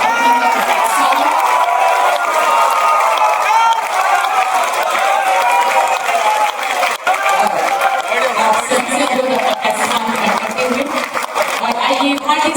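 A large crowd claps and cheers loudly and continuously, with shouts rising through the sustained applause.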